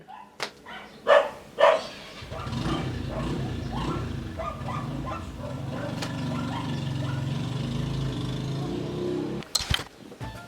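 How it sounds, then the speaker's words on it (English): Dog barks in a Havana home, a few sharp loud yaps near the start, then a steady low rumble of background noise follows with another brief burst near the end. "Stop barking!"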